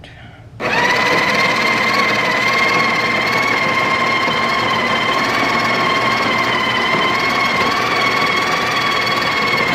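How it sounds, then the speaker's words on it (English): Breville Barista Express espresso machine grinding coffee beans, a loud steady buzzing grind that starts abruptly and runs unbroken, close up with no talk over it. "When we press in here, the grinds will start to come out."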